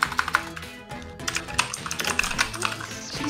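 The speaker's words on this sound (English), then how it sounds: "Who the fuck is typing so fast?" Fast typing on a computer keyboard during an online party game session, a rapid, uneven clatter of key presses close to the microphone, over game music and faint voices.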